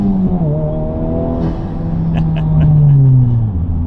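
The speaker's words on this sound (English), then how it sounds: "some of the fake engine sounds do turn on." A Honda Civic Type R (FL5) engine with an AWE Track exhaust drones and climbs in pitch, then drops as it revs, with a deep exhaust note and a few sharp crackles near the end.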